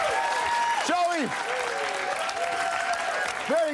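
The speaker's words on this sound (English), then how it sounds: "Keep your applause going." Sustained studio audience applause at a late-night talk show taping, a dense, even wash of clapping that carries on throughout, with a voice talking over it.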